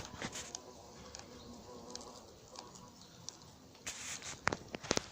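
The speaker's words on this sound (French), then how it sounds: "Je me débarrasse de ce frelon." A hornet buzzes faintly and continuously near beehives at an apiary, with scattered light taps and rustles rising toward the end.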